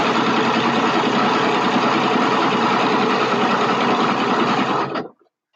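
A sewing machine stitches cloth diaper fabric in a fast, steady mechanical whir that runs loud and close, then stops abruptly near the end, leaving silence.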